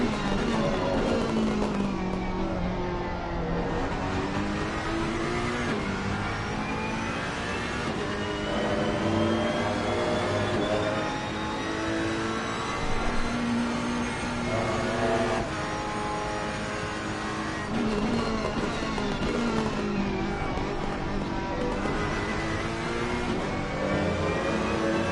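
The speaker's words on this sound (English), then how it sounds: "Absolutely great sound of the Ferrari." A Ferrari race car engine in a PS5 racing game at Kyalami howls steadily at high revs, with rising and falling pitch sweeps through gear changes, loud and continuous without talk.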